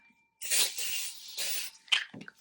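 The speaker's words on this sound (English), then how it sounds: "I'm going to actually do some spray." A cleansing spray misted over tarot cards, two broad hissing bursts followed by a sharper, shorter spritz, close and clear with no talking.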